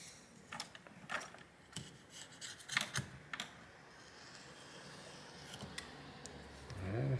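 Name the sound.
scraping phone screen edge with small flathead screwdriver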